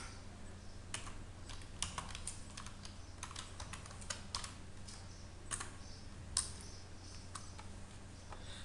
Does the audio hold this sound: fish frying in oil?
no